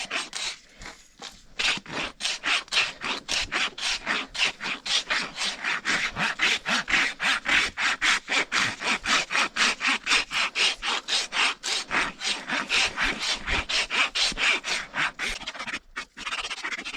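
Rasp filing a horse's hoof during barefoot trimming, rapid rhythmic back-and-forth scraping strokes, loud and close, continuing steadily with a few brief pauses.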